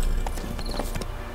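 Horse hooves clip-clop in The Witcher 3, a quick run of soft, evenly spaced hoof beats near a riverbed, fairly faint under a low ambient rumble.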